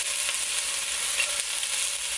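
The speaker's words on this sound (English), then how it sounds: "Once you put your oil into the pot, you want to go ahead and add your onion." Finely chopped onion fries in hot oil in a pot, giving a steady close sizzle with faint crackles as it is stirred, no voices present.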